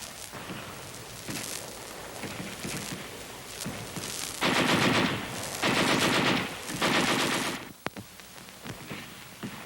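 Heavy machine gun fire in a World War 2 US Army setting: dense, continuous bursts of rapid automatic shots, loud and close, rising into three especially heavy sustained volleys, with no voices.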